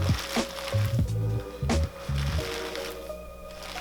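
Sphagnum moss in a small bowl being wetted down, with soft squishy, sloshing squelches in a few close bursts and a low background hum, no talk.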